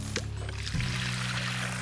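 Water gushes out of an opened pipe clean-out on an off-grid desert water line, a close, steady splashing pour with a brief clunk near the start, no talking.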